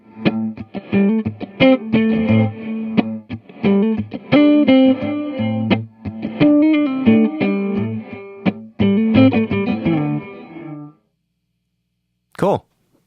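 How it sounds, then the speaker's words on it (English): An electric guitar plays a series of chords through the swoosh reverb setting of a Big Sky reverb pedal, strums ringing with a washy, swelling tail before cutting to silence, followed by a short isolated burst. "We're going to start on the swoosh reverb."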